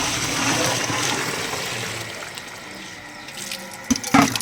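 Water pours from a bucket onto sesame seeds being washed, a steady broadband splashing rush that gradually eases, ending in a few sharper knocks and sloshes.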